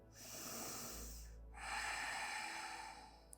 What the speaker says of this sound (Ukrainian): Робимо глибокий вдих